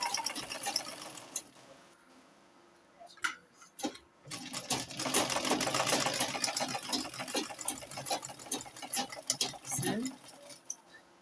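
A sewing machine stitches gown fabric in short bursts of rapid, rattling needle strokes, near and moderately loud, with soft handling noises and pauses between runs.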